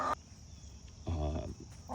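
Hens clucking inside a chicken tractor, a few short close calls in two bursts over a low outdoor background.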